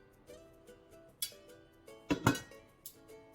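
A metal lid clatters onto a large frying pan with a bright clink and rattle, followed by a few lighter taps, against a quiet background hum.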